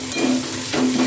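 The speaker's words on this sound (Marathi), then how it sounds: "आणि 5 मिनिटं आपण याला परतून घेऊया." Carrots and peas with turmeric stir-fried in a pan for spicy Marathi lapsi, a steady close sizzle with scraping stirs, louder at the start and again near the end, with no talking.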